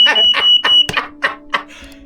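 A homemade toy bomb device beeps in a rapid, evenly spaced series of about seven sharp electronic chirps, loud and close, with no talk over them.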